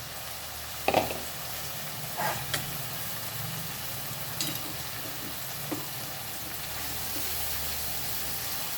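Pieces of budama kaya, a wild gourd, hit a hot pan for frying, giving a steady sizzling hiss with a few soft clunks as they are added and moved around.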